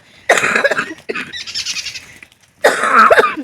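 A girl coughs in loud, close, harsh bursts: a cough fit, a raspy wheezing stretch, then another cough fit, outdoors with no other sounds.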